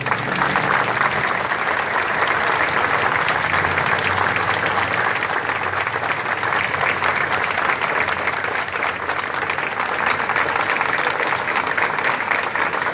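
Sustained, dense applause from a large crowd at an official commemoration of the 150th anniversary of the Paraguayan War at the Pantheon of Heroes, steady and full throughout without a break.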